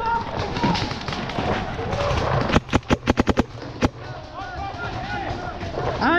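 Paintball guns fire during an outdoor paintball game: a quick string of about six sharp pops, then one more, over steady crowd and field noise.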